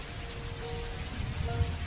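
Rain effect from a Hindi horror cartoon, a steady moderate downpour hiss with low rumbling underneath and a brief thump near the end, with no voices.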